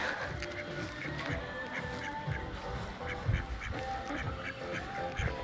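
Ducks quacking and honking by a lake at a relaxation complex, several birds calling over a steady outdoor background with a few louder bursts.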